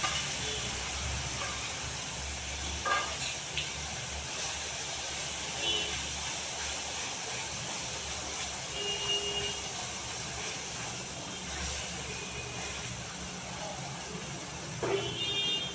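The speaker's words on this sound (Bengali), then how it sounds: "এবার দিয়ে দেবো আমি তেলের মধ্যে মশলাটাকে দিয়ে দেবো" A spice paste of ginger, onion, and green and dry chillies sizzles steadily in hot oil. The hiss is broad and continuous, with clinks now and then, and speech can be heard faintly behind it.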